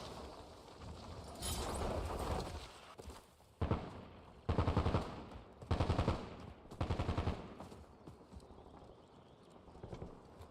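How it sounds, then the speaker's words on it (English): Gunfire in the Warzone battle royale video game, several loud bursts of rapid automatic fire separated by short pauses, with softer shots trailing off, no voices over it. "Is he shooting at us or is he shooting at someone else?"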